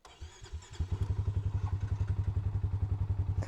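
A Polaris Sportsman 570 ATV cranks briefly and starts, then settles into a fast, even, thumping idle close by, loud and regular with no talk over it.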